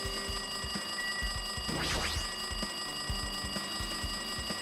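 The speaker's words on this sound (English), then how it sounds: "It looks like that phone is ringing. That is an annoying ring." A telephone rings insistently in the video game Danganronpa 2: Goodbye Despair, a steady, shrill electronic tone that runs unbroken throughout, with a brief sweeping sound in the middle.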